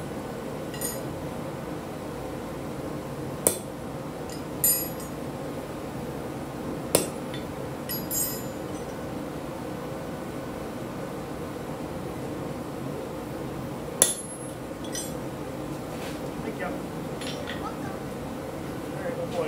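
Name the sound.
hammering a touch mark onto a forged hook on an anvil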